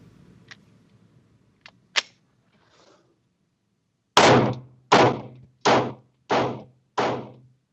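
Five sharp, loud gunshots from a Smith & Wesson pistol with a ported barrel, fired in darkness at a shooting demo, come in an evenly spaced rapid string after a few faint clicks and handling taps.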